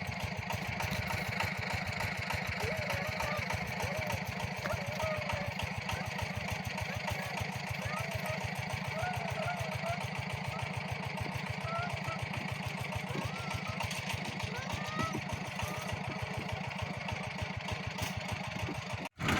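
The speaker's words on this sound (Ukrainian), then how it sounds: "Заводь свого трактора." A tractor's steady mid-pitched engine idles with an even chugging rhythm throughout, close and constant, with a faint voice briefly over it.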